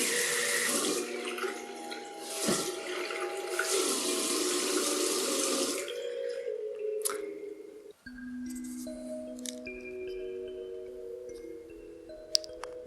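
Tap water rushing steadily from a sink faucet fitted with a bubble-making aerator insert, loud and close for several seconds before it stops and softer drips and clinks follow.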